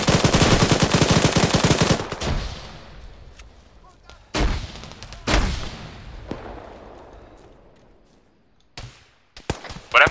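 Loud bursts of automatic 40 mm grenade launcher fire in Arma 3, a rapid volley followed by separate sharp blasts and echoing explosions, with quieter gaps between them.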